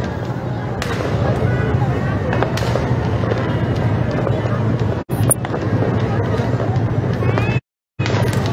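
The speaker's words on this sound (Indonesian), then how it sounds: "saya terdengar suara dentuman-dentuman kembang api mulai menyeruak di berbagai" New Year fireworks burst over the city of Depok along Margonda, a dense, continuous crackle and rumble of explosions mixed with wind buffeting and crowd noise, with a short dropout near the end.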